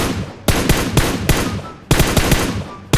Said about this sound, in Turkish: Hemen vurduk arkadaşlar gördüğünüz gibi.